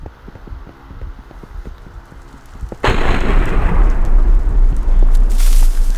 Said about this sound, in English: These explosions are crazy.